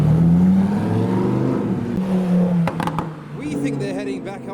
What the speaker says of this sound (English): there is the Huracan STO with the 720S behind it, looking wild with that massive spoiler in the back